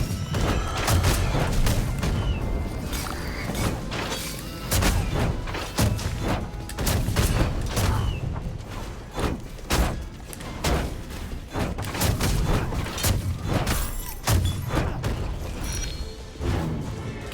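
Repeated heavy cannon blasts from Rogue Legacy 2 boom in quick succession, loud and close, with thuds and crashes layered under busy game music throughout.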